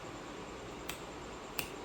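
Two crisp finger snaps, about three quarters of a second apart, close and sharp against a quiet room hiss.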